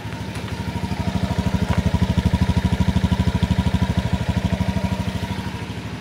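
A Honda Beat FI V2 scooter engine idles with a steady, rapid putter, close by and fairly loud, swelling slightly then easing off.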